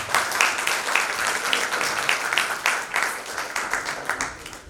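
Audience applause at a Sanskrit stage play: a sustained, even patter of many hands clapping from a seated crowd, moderately loud and steady throughout with no voices over it.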